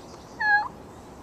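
A young child imitates a cat with a single short, high meow, brief and fairly clear against quiet room background.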